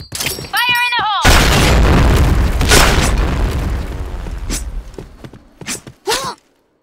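A grenade detonates in the Counter-Strike video game as a loud, close boom whose rumble slowly decays. Short game voice sounds come just before it, and scattered footsteps and smaller pops follow.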